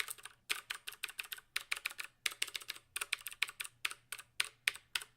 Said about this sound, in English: This is Cherry MX Blues are like really clicky, so like you're gonna hear it a lot.